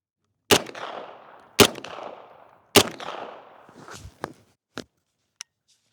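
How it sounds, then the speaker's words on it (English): An unsuppressed MP5 firing 115 grain 9mm rounds: three loud, sharp, evenly spaced shots with ringing decay, followed by a few fainter clicks and knocks. "now we're gonna do an MP5 and 9mm. This is 115 grain unsuppressed."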